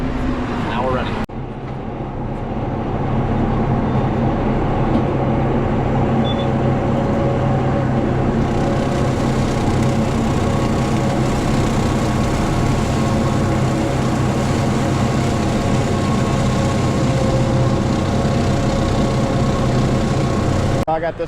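A tractor engine starts and is brought up to about 540 RPM, a loud, steady rumbling drone that settles into an even run, with talk over it.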